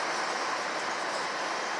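Freight train at a BNSF rail yard in Memphis, Tennessee, with cranes lifting freight, giving a steady, broad rumbling roar that holds evenly throughout the short stretch.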